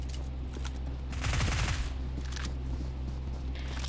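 A brief burst of rapid UMP submachine gun fire in BGMI, a tight cluster of shots rising out of quieter game ambience.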